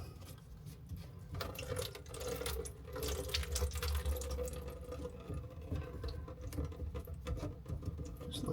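Water trickles and patters from a loosened sink P-trap into a small bucket, a continuous close splashing with irregular drips.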